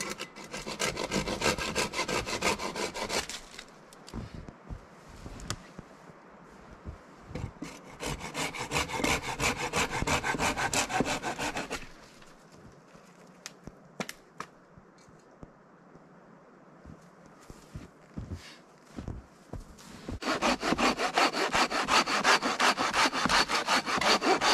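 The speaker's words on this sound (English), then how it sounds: "So basically what I'm doing right now is I got another log cut for my base" A hand saw cuts through a log in cold-weather woods for a camp base, with long stretches of close, rhythmic rasping strokes broken by a quieter pause before the sawing resumes.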